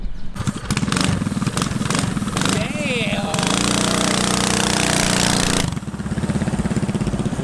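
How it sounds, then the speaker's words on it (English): A motorized shopping cart with an engine mounted on the back sputters past at a car meet, loud and near, with a rapid buzzing putter that surges and fades while voices react over it. "That was a shopping cart on wheels with an engine on the back of it."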